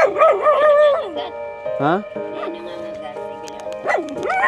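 A dog barks and yips close by in a few short bursts, with people talking around it.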